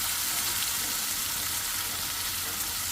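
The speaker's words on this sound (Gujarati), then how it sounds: "થોડું જ મસાલાને શેકીશ" Spice masala roasting in a pan, a steady, soft frying sizzle heard close and unbroken for the whole stretch, with no voices.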